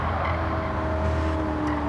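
A 1965 Shelby GT350 engine in the racing game Gran Turismo 7 drones steadily at high revs, a loud, continuous mechanical roar with a sustained whine.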